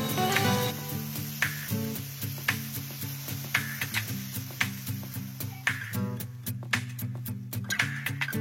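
Spices and vegetables frying in a pan on a home stove, a continuous bright sizzle with periodic scraping stir strokes, close and steady, with a low background hum underneath.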